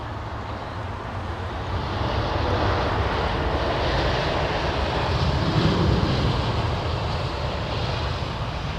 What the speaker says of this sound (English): The old Icelandair jet. It's gone up like a skyrocket.